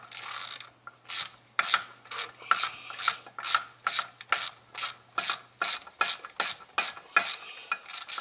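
A hand ratchet loosens the differential bolts on a 2015 Dodge Charger R/T, clicking in quick, regular bursts of about fifteen strokes, loud and close, with no talking.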